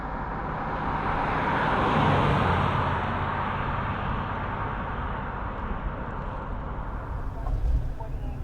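A 1961 police car with torsion bar suspension and power steering drives along, giving a steady loud engine and road rumble with tire and wind noise that swells briefly, no voices on top.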